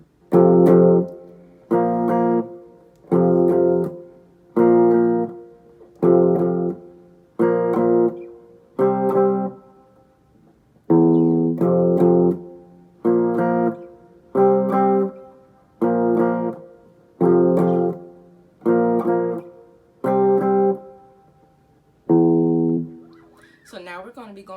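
An electric guitar plays the chorus of a song, sounding as a steady run of strummed chord stabs in an even rhythm, each chopped short by a brief gap, close and alone.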